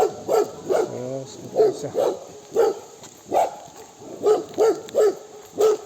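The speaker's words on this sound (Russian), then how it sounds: "Вот один начинает лаять, и все остальные начинают поддерживать." Several dogs bark repeatedly at a trout farm, with sharp, loud barks coming in irregular bursts close by, plus a brief whine, while a person speaks briefly.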